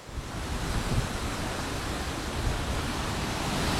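Large waterfall at Curug Sanghyang Taraje roaring with heavy rushing water, a dense, loud, unbroken broadband wash that fills everything, with no voices.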